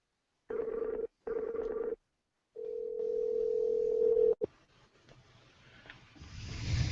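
Two short bursts of a telephone ringing tone, then a longer steady tone that cuts off into faint background noise.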